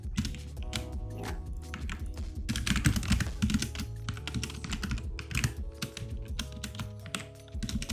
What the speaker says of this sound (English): My mind is thinking faster than I'm typing